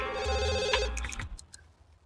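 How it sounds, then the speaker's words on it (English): Telephone ringing in The Sims 2 video game, a bright electronic ring tone over game music, one clear burst that cuts off partway with a few faint trailing blips. "it's six and the phone's ringing"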